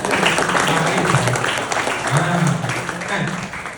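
Indoor audience applause at a talk or seminar, a crowd clapping steadily in a dense wash with murmuring voices mixed in underneath.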